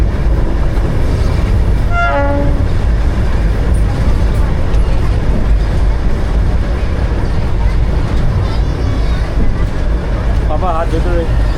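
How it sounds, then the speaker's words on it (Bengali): Darjeeling toy train diesel engine running near a station, a loud continuous low rumble and rattle with a short rising horn-like tone early on, and people talking over it. "এই আমাদের পিছনে ট্রেন এসে আমাদেরকে নামিয়ে দিল, ইঞ্জিন চলে গেল।"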